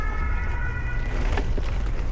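A high, steady electronic toy ambulance siren wails briefly over a noisy room, thin and toy-like, lasting about a second before fading into background clatter.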